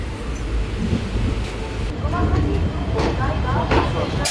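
A train bound for Guwahati rumbles along with steady low-frequency roar and rattling, occasional clacks and bursts of noise, loud and continuous throughout.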